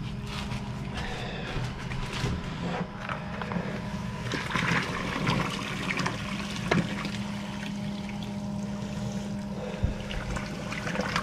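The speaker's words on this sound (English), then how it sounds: "I usually throw it over here in the sink so I can rinse it off" Hot tap water runs into a kitchen sink to rinse out a sugar pail, a steady splashing trickle with occasional knocks and clunks of the pail, close and continuous.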